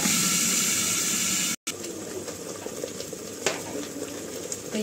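Spices and tomato puree frying in a pan for tomato pulao, a continuous close sizzle and bubbling hiss that cuts out for an instant, then returns slightly quieter with occasional stirring scrapes.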